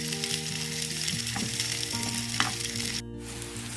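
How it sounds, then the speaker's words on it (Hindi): Onions fry in a pan ahead of adding chicken for a homemade chicken parcel, a loud dense sizzle with a few stirring scrapes under a steady tonal hum, dropping briefly near the end. "2 मिनट फ्राई किया इसको मैंने।"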